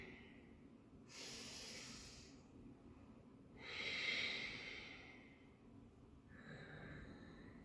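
Slow, deep breathing during a gentle vinyasa yoga session: long, soft inhales and exhales in an even rhythm, quiet and close, with no talk.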